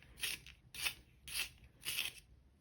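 Polychromos colored pencil turned in a pencil sharpener, giving four evenly spaced rasping grinds of shaving, quiet and close with brief pauses between.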